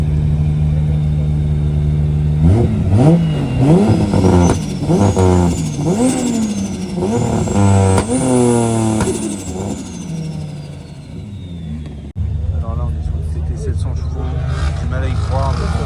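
Car engines bounce hard against the rev limiter at an outdoor car show, loud repeated stuttering revs rising and cutting in quick bursts, with crowd chatter and voices in the background.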